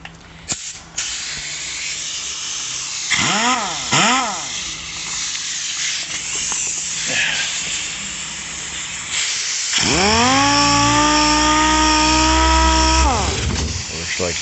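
A dual action sander works on a 1965 Mustang, its loud whirring hiss rising and falling in bursts, then revving up to a steady, sustained high-speed whine near the end.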